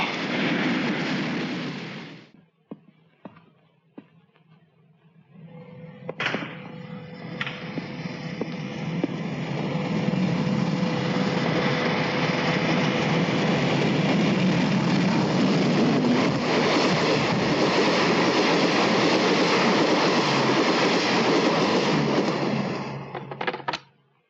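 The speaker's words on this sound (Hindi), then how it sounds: "अभी सुपर एक्सप्रेस पास हुई है।" A super express train rushes past at speed, a steady loud rumbling roar building and sustained for many seconds before cutting off, after a brief quieter stretch with scattered clanks.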